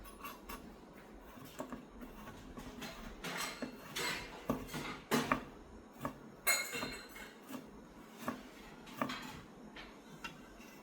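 A knife cuts coconut into small pieces on a hard surface, giving irregular sharp knocks, taps and clinks at close range with quiet gaps between strokes.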